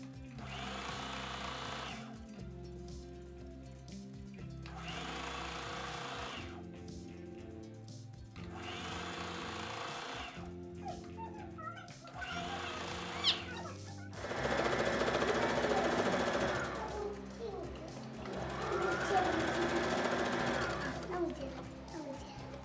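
A sewing machine stitches an elastic casing on a child's garment in bursts of steady mechanical whirring, separated by pauses, while a person talks over it.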